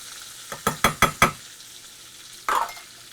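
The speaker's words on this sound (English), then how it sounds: "we're going to saute these for a few minutes" Onion and mushrooms sauté in butter in a pan, with a quick burst of four or five utensil scrapes and clinks, a brief pause over a faint sizzle, then one more scraping stir.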